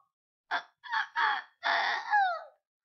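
A voice imitates a rooster crowing in a kindergarten classroom, giving several short clucking bursts followed by a longer drawn-out crow with a falling tail, alone and close.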